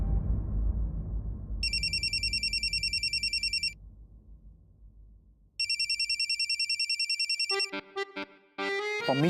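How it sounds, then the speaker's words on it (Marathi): A phone rings in a Marathi TV serial scene: two bursts of a bright electronic ringtone separated by a short pause, then a faster melodic tune, all fairly close and with no voices. "पम्मीजींचा फोन."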